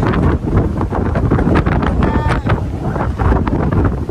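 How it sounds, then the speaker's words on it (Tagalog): Strong wind buffets the microphone at a high scenic lookout, a steady loud roar with gusting swells throughout and no clear talk over it. "Ay, lakas ng hangin."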